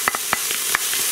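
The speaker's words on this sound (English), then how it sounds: "Let's add our 3 cloves of minced garlic." Three cloves of minced garlic hit a pan of caramelized onions, giving a soft, close sizzle with a few brief crackling spurts spaced out over a steady low hiss.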